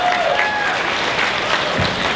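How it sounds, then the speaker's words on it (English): Guests at a wedding reception applaud in a brief, steady burst of mixed clapping from a room full of people, with a few voices faintly under it. "Round of applause, everybody."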